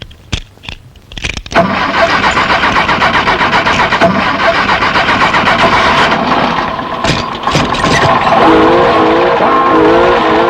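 A car engine cranks with a few sharp bursts, then catches and settles into a steady, loud idle that carries on to the end.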